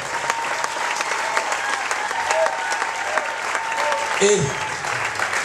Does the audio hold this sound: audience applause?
yes